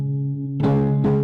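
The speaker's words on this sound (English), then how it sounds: "Yeah, I hear the reverb." A microphone with a reverb effect switched on rings with a sustained, humming tone, and two bursts of washy, echoing noise swell over it during a live online builders' forum stream. No one speaks.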